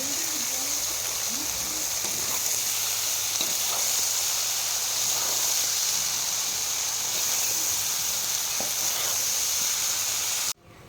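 Tomato, cabbage, carrot and potato sizzling in a pan as they cook, a steady, even hiss that runs throughout with faint stirring clicks, then cuts off abruptly at the end.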